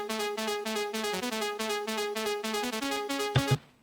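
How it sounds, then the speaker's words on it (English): Raw, unprocessed sawtooth synth lead for a hypertrance track plays a quick rhythmic pattern of bright, buzzy stabs, loud and up front, ending on a short burst before cutting off. "So the original saw sounds like this."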